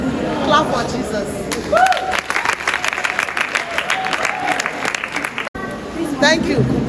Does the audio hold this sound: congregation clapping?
yes